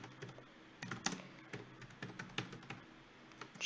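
Quiet, close keystrokes tap out a router command on a computer keyboard in an irregular rhythm of single clicks and short bursts, with no talking.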